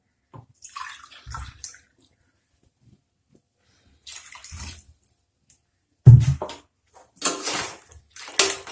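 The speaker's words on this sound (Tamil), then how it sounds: "கிரேவியாவே எடுக்கணும், அதுக்காக நிறைய தண்ணி ஆட் பண்றேன்." Water poured into a pot of crab curry in short splashing bursts separated by quiet pauses, close and fairly loud, with a heavier gush near the end.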